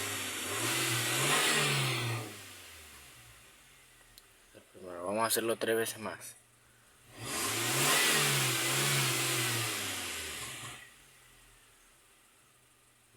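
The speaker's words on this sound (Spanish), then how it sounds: "Y así es como suena el MG5" A 2022 MG5 car engine is revved with the windows down, giving two long, loud accelerating surges. Between them, someone speaks briefly while the engine drops back to idle.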